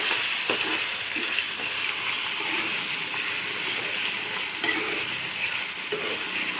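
Boneless chicken frying in a pan, giving off a loud, continuous sizzle and hiss close up, with occasional stirring and no talking.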